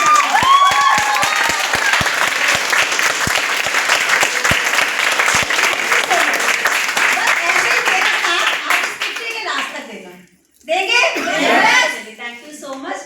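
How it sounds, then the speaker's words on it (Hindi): Loud, sustained applause from an audience at an International Men's Day event in Lajpat Nagar, dense clapping for several seconds that thins and fades out, then a burst of excited voices. "ये तालियां आप अपने लिए बजाएंगे"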